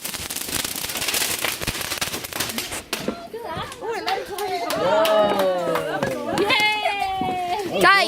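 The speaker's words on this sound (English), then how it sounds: "Look at the fireworks." Bonfire night fireworks bursting outdoors with sharp crackling pops, followed by excited people talking and cheering nearby.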